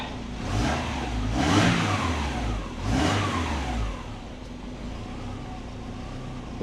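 A Subaru engine fitted with a homemade turbo exhaust manifold runs with the exhaust open, two throaty surges swelling over a steady mid-pitched drone before settling to a rough idle, loud and close.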